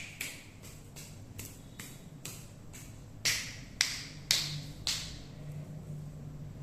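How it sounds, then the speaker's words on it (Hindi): About a dozen crisp finger snaps ring out one by one at an even, unhurried pace during a Hindu nyasa ritual, snapping toward each direction. The later snaps are louder, and all sound close against a quiet room. "दिशा में चुटकी बजाते हुए न्यास करें"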